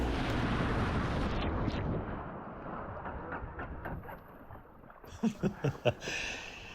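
Loud rushing, churning water from a Yamaha XT 600 motorcycle plowing through a shallow river crossing, fading into engine sputters and a few sharp knocking bursts as the engine shuts down.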